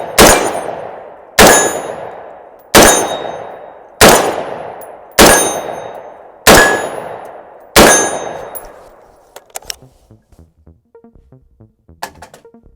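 Seven loud, sharp shots ring out at steady intervals of roughly 1.3 seconds, each trailing off in a metallic ring, from a firearm fitted with a weapon-mounted light, followed by faint clicks and handling noises.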